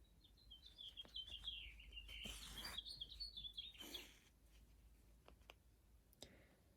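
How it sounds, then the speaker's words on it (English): A bird chirps outdoors near a bird feeder, with a run of quick, high, warbling tweets and a few scattered calls after. The sound is faint and somewhat distant, with soft rustling in between and no talking. "I'm hoping you can hear the bird."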